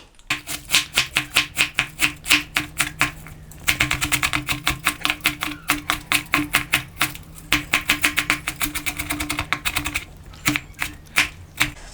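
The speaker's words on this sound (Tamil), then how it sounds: "முட்டைக்கோஸை கட் பண்ணி வச்சுங்க." Rapid, even knife strokes chopping cabbage on a board for a cabbage kurma, a steady run of sharp close taps that pauses briefly and then starts again, with no voices.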